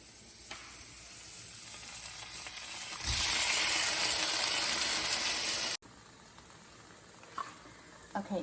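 Fire-roasted chilies sizzle steadily in a pan for white chicken chili, the frying hiss swelling louder midway, then cutting to a quieter stretch with faint stirring clicks.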